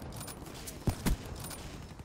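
Gunfire in an online shooter video game: two close, heavy shots about a quarter second apart stand out over a faint bed of distant, crackling fire.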